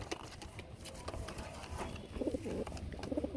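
Pigeons kept for sale coo softly in short low bursts, faint against a steady background murmur and rustling.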